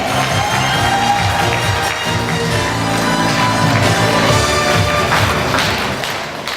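Dense, sustained audience applause and cheering at a school last-bell ceremony as nominees leave the stage, a continuous loud roar of many hands with scattered shouts throughout.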